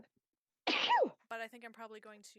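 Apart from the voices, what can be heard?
sneeze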